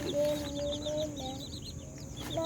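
Clucking from a hen with her chicks, nine small chicks present: soft, steady chirping and clucks at moderate distance, continuous across the whole moment with faint background noise and no talking.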